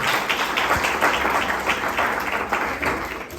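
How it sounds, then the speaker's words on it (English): A crowd applauds a presenter at a business masterclass, a steady, fairly loud wash of clapping lasting the whole stretch without speech. "Give him a round of applause,"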